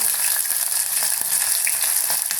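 Chopped green chillies sizzling in hot oil for a Malayalam-style pickle made from banana stem, a loud, constant hiss of frying with faint crackles and no voices.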